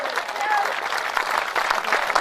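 Audience at a veer ras kavi sammelan poetry gathering clapping steadily, a dense sustained round of applause from a large crowd, close and loud.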